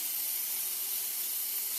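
Soaking water is poured off wheatgrass seeds in a soft, continuous hissing splash, close and steady for under two seconds.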